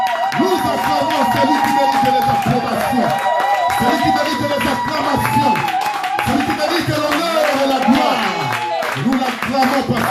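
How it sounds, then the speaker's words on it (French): A church congregation rises to acclaim in worship, claps and cheers steadily together, with voices and sung tones mixed into the sustained clapping throughout. "nous nous levons pour acclamer le roi des rois"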